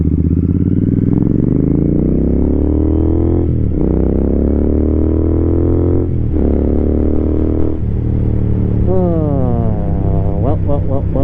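A motorcycle pulls away and rides off, its engine loud and close, revving up through several gear changes with rising then dropping pitch, steady throughout and ending in a quick run of climbing revs.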